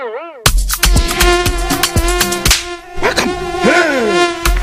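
Mosquito buzzing in an insecticide spray advert: a loud, close, whining insect drone that sweeps up and down in pitch over several seconds, cut by sharp percussive hits and effects, with no speech over it.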